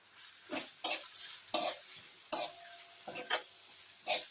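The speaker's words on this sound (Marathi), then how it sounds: "शिमला मिरची टाकूया ती पण तेलात परतवून घेऊ" Capsicum and cabbage sautéing in oil while being stirred, with short, separate scraping and sizzling bursts in an irregular rhythm, close and moderately loud.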